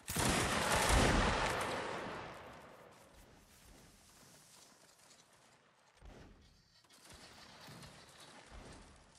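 Massed musket volley in the Mount & Blade Napoleonic Wars video game: one loud ragged crack of many shots at once, then a long fading rumble and scattered, fainter shots afterward.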